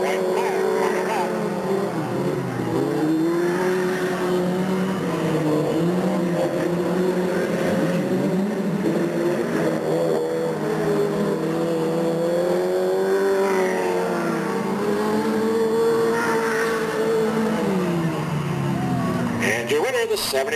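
Race cars roar around a dirt oval track on the final lap, a continuous wavering engine drone rising and falling as they pass, heard under a steady stream of announcer commentary.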